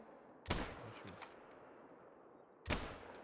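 Two sharp, loud rifle shots from the hunting game The Hunter: Call of the Wild crack about two seconds apart, each with a short echoing tail, and a brief voice sounds between them.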